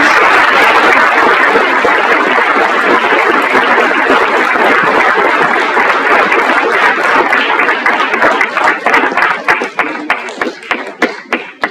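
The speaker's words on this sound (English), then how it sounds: "Can we give Kevin a nice round of applause?" A round of applause for Kevin from a small audience, dense clapping that thins out into scattered individual claps before fading at the end.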